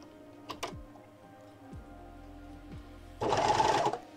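An overlock machine sews a curved seam in fabric, trimming a small strip as it goes: a quiet background, a couple of soft clicks, then a loud, dense burst of stitching lasting about a second near the end.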